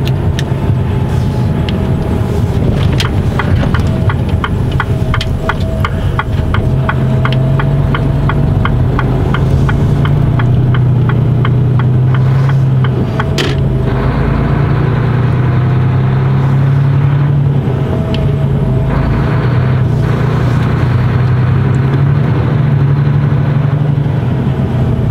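A car driving on a cold, icy winter road, a steady engine hum and road rumble running continuously and fairly loud inside the cabin, with a rhythmic ticking like an indicator for a stretch, and no talking.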